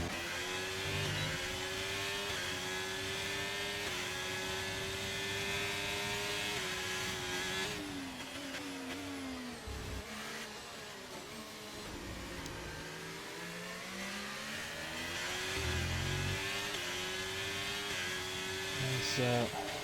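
Race cars in a Global Rallycross round in Canada, engines revving and accelerating past with rising and falling whines, fairly distant and faint, with a commentator talking over them.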